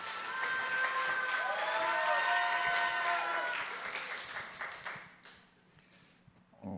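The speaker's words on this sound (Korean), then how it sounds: "박수, 심차게 박수 쳐주세요" Church congregation applauding for a young adult at a youth group report service, clapping mixed with cheering and some voices, loud at first and then thinning out toward the end.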